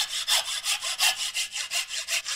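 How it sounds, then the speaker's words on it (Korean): A hand saw rasps back and forth through bamboo in a steady rhythm, about a dozen even strokes, close and clear with no talking, while making a danso flute. "자를 때 이 결 찾아서 잘 톱질을 해야 됩니다"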